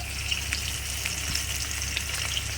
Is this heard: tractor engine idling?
no